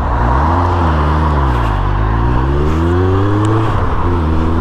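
A Suzuki Bandit motorcycle rides along the A17 between Sleaford and Newark on wet roads, its engine drone swelling and falling with the throttle under steady road and wind rush, close and loud, with no talk.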